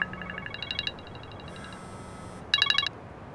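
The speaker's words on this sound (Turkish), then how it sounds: "Telefon çalıyor, dur." A telephone rings with bursts of electronic chirping tones, a pause, a higher sustained tone, then another clear burst of ringing, indoors with no voices.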